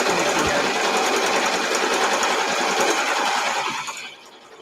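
Sewing machine stitching through a fodder book, a fast continuous mechanical whirr held close and steady, then stopping abruptly near the end.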